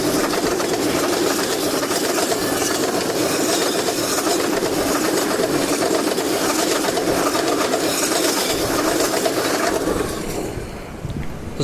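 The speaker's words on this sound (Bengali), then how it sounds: "এখন আমরা রেলগেট রেল লাইন পার হয়ে এসে দাঁড়িয়েছি একটি ট্রেন আসছে এটা আপনাদের ক্যামেরা বন্দি করে দেখাচ্ছি" A train rolls past a railway level crossing in rural Bangladesh, a loud, continuous rumble with rhythmic clickety-clack of wheels that holds steady, then fades toward the end as the last cars pass.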